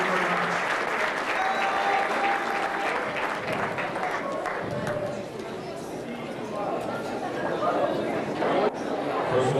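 Audience applause fills a hall at a high school athletics awards banquet, steady sustained clapping with crowd chatter running underneath throughout.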